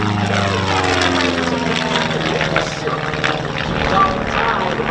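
Long EZ, an experimental amateur-built home-built aircraft, flies aerobatics at the Lake Cumberland air show, its propeller engine droning loud and steady throughout with slight pitch shifts as it maneuvers, with speech faintly mixed in.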